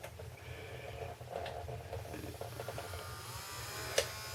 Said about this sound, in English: You see the motors moving.